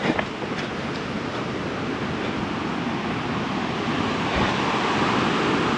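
Bandaje Falls, a waterfall reached on a trek, rushes as a steady broadband roar, distant and continuous throughout, with no voices over it.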